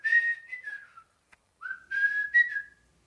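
A person whistles two rising-and-falling call phrases separated by a short pause, imitating a boy whistling for his dog; the sound is clear, close and melodic with no talking.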